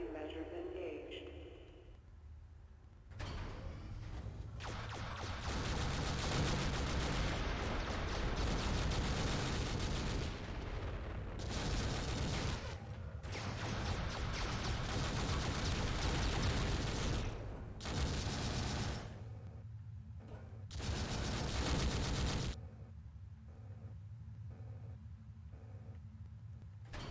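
Turrets firing in the shooter game Descent running on an emulated 3dfx Voodoo card, a dense run of loud blasts and booms that keeps up for most of the stretch, with brief lulls in between.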